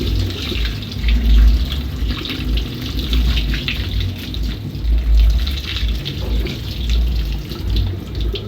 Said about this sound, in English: Then you are going to rinse with cold water to prevent overcooking.